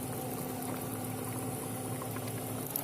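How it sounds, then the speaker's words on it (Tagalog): Corn soup boiling in a pot, a steady close bubbling rumble that stays even throughout with no talk. "Kumulo na siya, guys."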